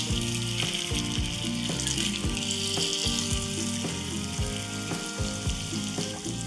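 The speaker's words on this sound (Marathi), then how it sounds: "आता आपण हे शॅलो फ्राय करूयात. सो हे गरम तेलामध्ये आपण घालून घेऊयात." Semolina-coated slices laid in hot oil shallow-fry with a dense, continuous sizzle close by, over steady background music.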